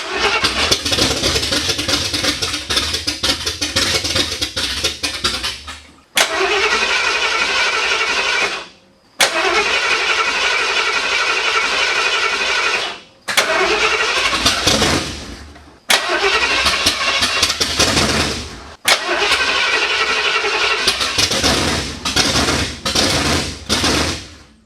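A 1978 Ford F-150's 351M V8 on open headers cranks and flooding, sputtering loud and near in repeated bursts separated by brief silences, with no voices.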